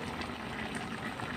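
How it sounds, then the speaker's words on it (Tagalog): Pork belly boiling in a cooking pot, a steady low bubbling simmer that continues unbroken through the short moment, close by and fairly quiet with no voices. "Kumukulo ang ating niluluto."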